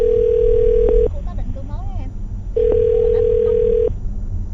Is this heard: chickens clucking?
no